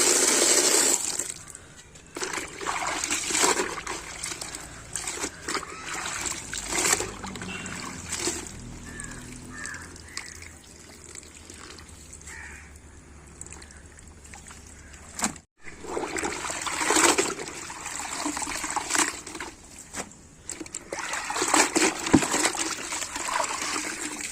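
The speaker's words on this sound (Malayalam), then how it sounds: "നമ്മുടെ ഇത് ഒന്ന് നല്ല പോലൊക്കെ നമുക്കൊന്ന് ലാച്ചി പിഴിഞ്ഞെടുക്കാം" A wet, shampoo-washed cotton saree is wrung out by hand, giving repeated splashes, trickles and dribbling water in uneven bursts over about twenty seconds. The sounds are fairly close and heard alone.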